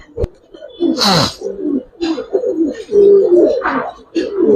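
A male silver racer pigeon coos nearby, deep throaty rolling calls repeated through the clip with wing flutters and a voice mixed in.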